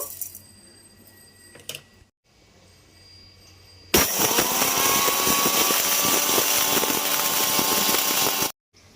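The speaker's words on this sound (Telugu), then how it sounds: "మిక్సీలో వేస్తున్నాను" Mixer grinder loudly whirring as it grinds mustard seeds and fenugreek into powder, a steady continuous motor roar lasting several seconds after quiet kitchen background, then cutting off abruptly.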